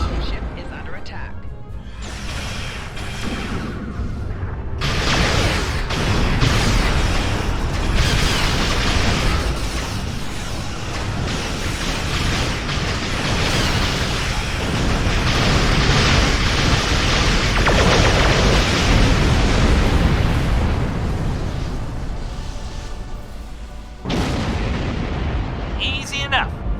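A starship takes weapons fire in Star Trek Online, with sustained booming blasts and rumbling impacts that last most of the stretch, mixed with game sound and brief voice.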